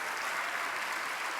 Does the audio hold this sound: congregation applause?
yes